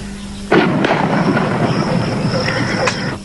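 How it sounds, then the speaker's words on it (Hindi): Artillery gun fire at a Pakistan Defence Day show: one loud blast opens into a long rolling, rumbling roar with crackle that carries through the rest of the moment. "5 राउंड गन फायर"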